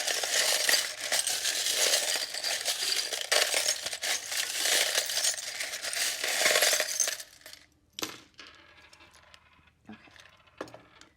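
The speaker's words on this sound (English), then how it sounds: "now I'm going to pull some charms" Small charms jostled and pulled from a container, first a dense continuous clinking and rattling, then after a pause a few scattered separate clinks and taps close by, with no talk.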